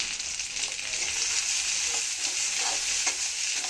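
Crushed garlic and a couple of dry chilies fry in a pan with rice, giving a steady, close sizzle with light crackles and occasional stir scrapes, no talking.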